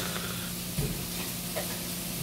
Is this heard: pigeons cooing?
no